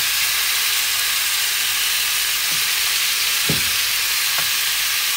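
Spare ribs sizzle and fry loudly in a hot pan with a constant broad hiss, a few faint clinks or scrapes of stirring breaking through.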